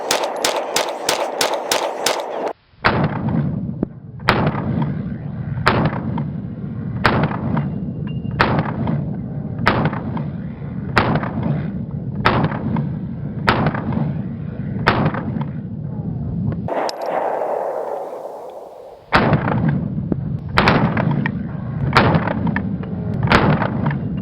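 Pistol shots from a Staccato XC and a Nighthawk TRS Comp firing 124-grain ammunition, a rapid opening burst followed by a long series of sharp, loud, evenly spaced reports at an outdoor range.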